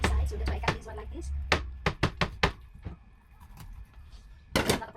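Knife cutting through fish on a board, a quick cluster of sharp close chops followed by a short pause and two more cuts, with faint background noise.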